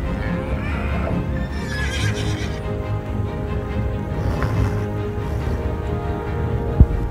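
A horse whinnies and neighs amid a busy outdoor ranch scene as a rancher tags a calf near its nervous mother, with hoof clip-clops and steady background noise throughout, ending in one sharp knock.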